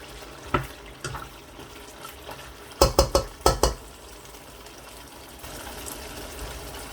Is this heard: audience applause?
no